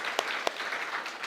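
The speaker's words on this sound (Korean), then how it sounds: "우리 박수 한번 보내주시면 감사하겠습니다." A church congregation applauds at a Sunday service, steady clapping from many hands heard near, with a couple of sharper individual claps standing out.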